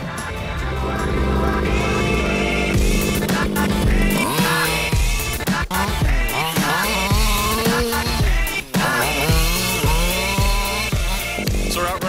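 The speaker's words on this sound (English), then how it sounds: "Losi 5IVE-T. It's a gas-powered four-wheel fifth scale, and this thing is just absolutely sick." The gas-powered engine of a Losi 5IVE-T four-wheel fifth-scale RC truck screams and revs up and down repeatedly, loud and close, with sharp pitch swoops as the throttle opens and closes.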